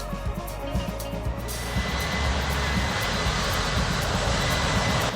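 Virgin Atlantic Boeing 747 jet taxiing to the runway at Manchester Airport, its steady broadband engine roar heard from a distance, constant and even throughout.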